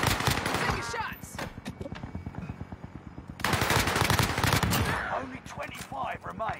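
Rapid automatic gunfire bursts rattle loudly and continuously through a video game battle, a dense stream of shots that swells louder halfway through, with voices talking over the shooting.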